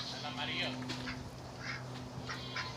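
Ducks on a farm quack repeatedly at close range, with several bursts of calls mixed with nearby human talk.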